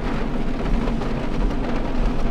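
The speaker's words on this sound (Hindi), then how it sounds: "क्योंकि बारिश बहुत तेज़ हो रही है यहाँ पर" Heavy rain falls in a steady, loud, dense hiss with a low rumble of thunder underneath, continuous and close, with no voices.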